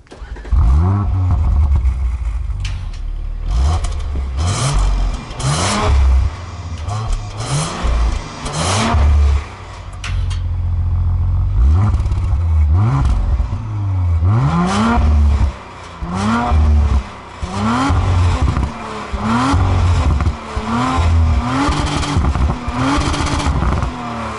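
An Audi RS5 2018 with a 2.9-litre V6 revs loudly and close by in repeated bursts, the engine note climbing and dropping again and again with a deep, throaty growl throughout.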